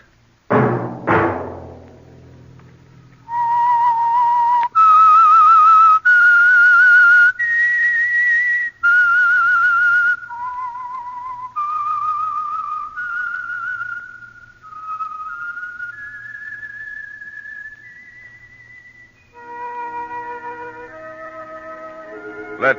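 A lone clear whistle carries the melodic theme of the 1947 radio drama The Whistler, held notes stepping up and down in a slow phrase after a short plucked opening, with no talking.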